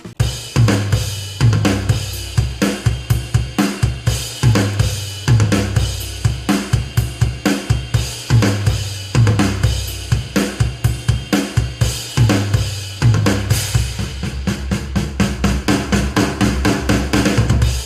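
Steady, punchy drum beat with deep kicks and crisp hits, played loud and continuous through a Dolphin Sound DS5A studio monitor speaker, with no voices.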